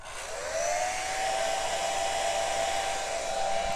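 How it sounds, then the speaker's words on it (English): A hair dryer whirs steadily at close range while drying paint on an acrylic painting, a constant airy drone with a high whine, with no talking. "I'm gonna set the hairdryer on it. It'll be noisy"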